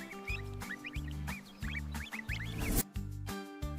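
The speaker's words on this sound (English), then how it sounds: "The yellow duck quacks in the water." A yellow duck quacks in short repeated bursts, set over a bouncy looping music bed with a thumping bass line.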